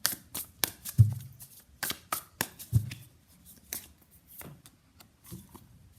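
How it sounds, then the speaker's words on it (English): Tarot cards being shuffled and handled close up: a quick series of crisp riffling and slapping strokes, a few softer thumps, tapering to quieter sporadic rustles. "So let's pull some cards from universe where this connection is headed on and outcome."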